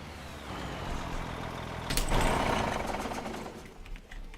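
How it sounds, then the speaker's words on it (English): Loud farm vehicle engine in a farming video game on Iowa plains during fall harvest, a steady mechanical drone that swells louder and rougher around the midpoint before easing slightly, continuous throughout. "Engine sound."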